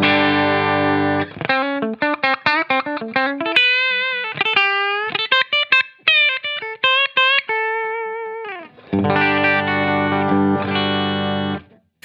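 Clean, heavily compressed electric guitar tone from a Line 6 Helix patch: chords ring out, then a quick run of single notes and short phrases, ending on sustained full chords, with no talking.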